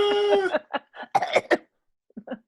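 One person coughs repeatedly, close to the microphone, in a rough, hacking string of bursts that trails off into a couple of smaller coughs after a short pause.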